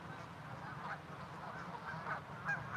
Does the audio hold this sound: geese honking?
yes